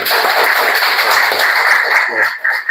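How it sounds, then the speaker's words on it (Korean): A church congregation at a joint worship service claps together, a dense burst of applause close by that runs for a few seconds with a voice faintly audible underneath. "같이 박수 한 번만 해주세요"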